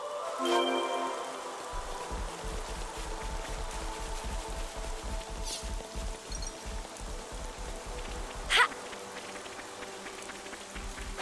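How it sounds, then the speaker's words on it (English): Rain falling in the game world of Xenoblade Chronicles 3, a steady patter with low rumbling texture throughout, plus a couple of brief sharper bursts standing out near the start and toward the end. "Rain, a blessing."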